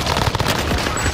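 A brief, loud burst of rapid gunfire in Warzone, a dense clatter of shots lasting about a second.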